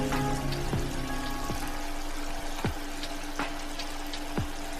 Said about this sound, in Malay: kita akan masukkan tomato yang dah dicincang cube tadi. Goreng dalam 1 minit 2 minit macam tu.